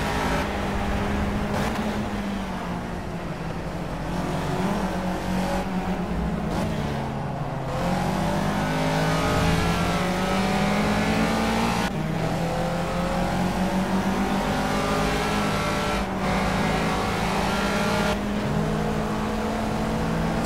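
Caterham race car engine in the Project Cars racing game revs hard and continuously, pitch climbing and dropping with gear shifts and downshifts into corners, loud and steady throughout with no talking.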